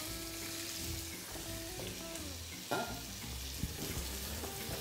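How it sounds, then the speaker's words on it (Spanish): Pasta water bubbles at a rolling boil in an uncovered pot on a kitchen stove, a steady, dense hiss and seethe with scattered pops and a couple of sharper knocks, heard close with no talking. "el agua de la pasta también la tengo ya prácticamente hirviendo"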